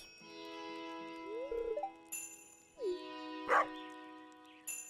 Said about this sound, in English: He barks a lot like Bruce does